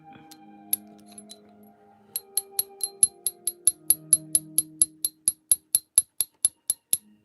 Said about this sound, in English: That's the sound of agate.